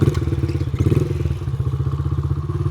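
Dirt bike engine that had sat unused for over five years, now running with a steady, rapid thumping idle, close and fairly loud with some mechanical clatter and no voices.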